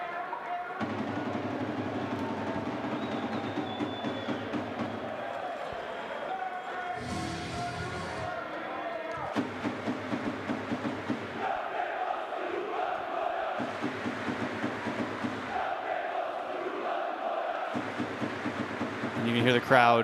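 Home crowd at a FIBA Basketball World Cup European qualifier between Bosnia and Herzegovina and Switzerland fills the arena with loud, rhythmic chanting and droning horn-like tones, rising and falling in repeated waves.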